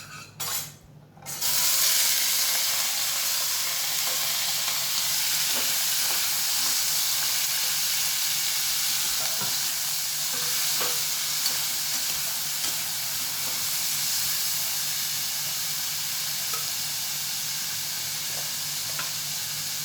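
Slices of green cooking banana frying in oil in a hot pan, a bright continuous sizzle that starts abruptly after a short quiet moment and holds steady and close, with occasional light crackles.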